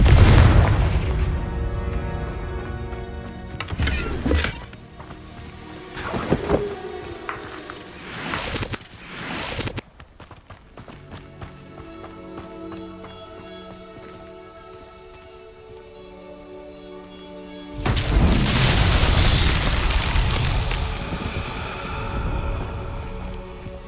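Repeated fiery spell blasts from the Confringo explosion spell in the Hogwarts Legacy video game, loud booming bursts early on and a long roaring blast near the end, with game music and ambience between.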